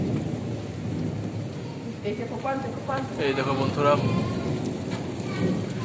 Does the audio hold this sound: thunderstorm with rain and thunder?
yes